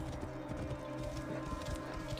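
Horse galloping in the video game Assassin's Creed Origins: a quick, steady clip-clop of hooves over a continuous background bed of game sound, moderately loud and close throughout.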